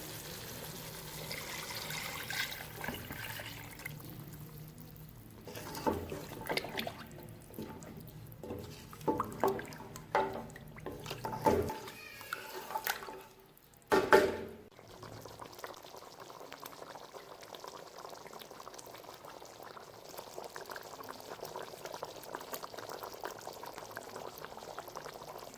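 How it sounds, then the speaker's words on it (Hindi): Stock (yakhni) poured into a pot of fried Lahori paye, followed by a steady bubbling boil; pouring and liquid splashes come early, then an even, close simmering hiss carries on alone. "अब इसमें सारी यखनी शामिल कर देंगे।"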